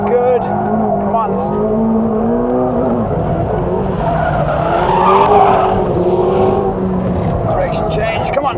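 A McLaren 750S race car with an 8-speed dual-clutch transmission corners hard on a track, its engine droning steadily with tire squeal and skidding as the car rotates through turns. The sound is loud and continuous, and a voice talks over it.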